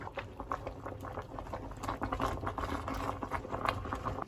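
Water is at a hard rolling boil in a pot for cooking spinach, a dense, steady bubbling and popping up close that runs without a break, with no talk.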